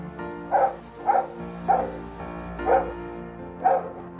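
A guide dog barks five times at a steady, evenly spaced rhythm, each bark short and clear with no other voices.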